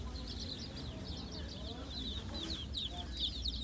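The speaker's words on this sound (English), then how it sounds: "Now we'll just walk down to different breed of chickens." Chickens of several breeds cluck and chatter in a farm supply store, a busy overlapping run of short clucks and calls at close range over steady low room noise.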